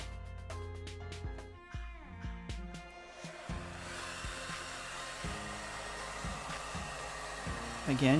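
A heat gun warms the underside of carbon vinyl wrap film during a Pebble watch skin install, giving a steady blowing whir after a few sharp clicks and tonal knocks at the start.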